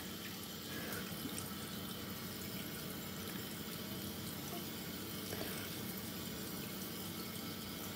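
Water runs steadily from a tap while a face is rinsed off with a small cleansing wipe during an evening skincare routine, a constant close splashing flow with no talking.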